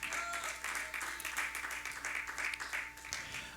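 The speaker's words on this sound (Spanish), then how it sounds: "Dale palmas al Señor." A church congregation claps for the Lord during a sermon, a faint, scattered patter of hands from a distance with some voices mixed in.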